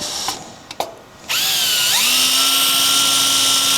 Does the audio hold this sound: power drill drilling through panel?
yes